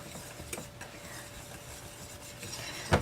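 A whisk scraping and stirring sugar in a pan, soft rhythmic rubbing strokes close by with a sharper metallic clink at the end, no voices.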